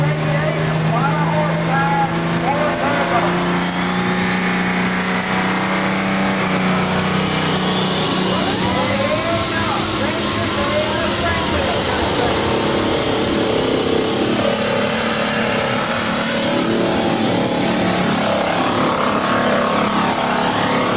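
IH 3688 super stock tractor hauling a sled at a 7,500-pound class tractor pull, a loud, sustained roaring engine with a rising whine as the run builds, under an announcer's commentary.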